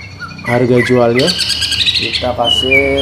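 A small caged songbird in a bird kiosk sings bright, rapid chirps and warbles close by, with people talking over it.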